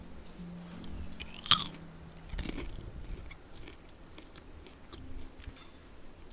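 Crunchy cheddar cheese popcorn being chewed up close, with repeated crisp bites and grinding crunches, one sharper crack early on, then steady quieter chewing with no talking.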